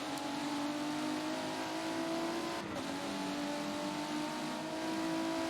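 Race car engines in a sim racing game at Watkins Glen drone and whine steadily, a sustained engine note with a brief dip in the middle, with no talking.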